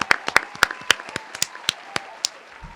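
A handful of sharp hand claps at uneven intervals, close and fairly quiet, with no voices over them.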